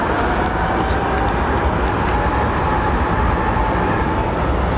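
A set of GE jet engines on an aircraft spools up at London Heathrow Airport, giving a loud, continuous broadband roar with a steady whine that holds throughout.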